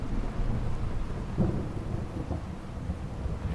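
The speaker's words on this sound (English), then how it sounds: "Oh, is that just the thunder, is it?" Low thunder rumbles through a steady rain-soaked storm in modded Fallout 4, a broad, continuous roll with a slightly stronger swell partway through, heard alone without any talking.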